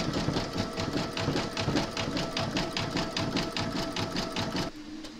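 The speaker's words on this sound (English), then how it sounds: "Load your thread colour for the satin stitching on each side of her skirt into your machine" An embroidery machine satin stitching an appliqué skirt on a large Mrs Claus design runs loud and near, with a fast, even stream of needle strikes that stops abruptly near the end.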